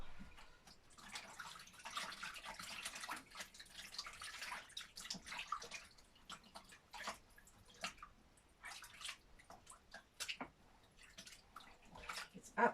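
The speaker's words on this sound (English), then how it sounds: "let me give it a rinse" Marbled craft item rinsed under running water, a steady splashing wash with intermittent louder splatters and drips, fairly quiet and close, with no talking.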